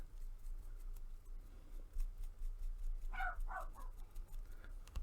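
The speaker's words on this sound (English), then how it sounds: "My dog's attacking something outside." A small Jack Russell terrier barks at something outside, a short burst of two or three quick yaps midway through an otherwise quiet room.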